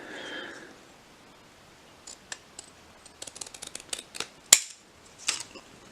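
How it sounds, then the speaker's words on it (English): Quiet, irregular snips and clicks of scissors cutting through stiff card, starting sparse and coming faster, close up with no talking. "let's get the scissors out again then"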